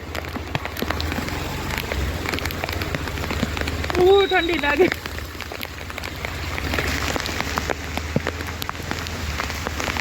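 Steady heavy rain pours down all day in Junagadh with a constant hiss and patter, while a voice speaks briefly over the downpour midway through.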